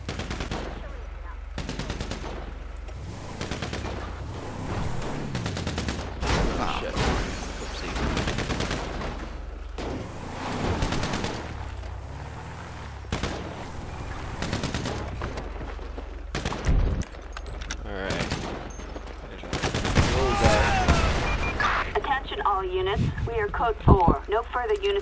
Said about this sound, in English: And your gunshot, some guy hunting or something.